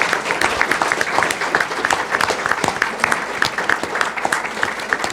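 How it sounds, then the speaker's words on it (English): A forum audience gives the sheriff candidates a round of applause, sustained crisp clapping from a roomful of people, loud and close, continuing steadily without talk. "let's give them a round of applause"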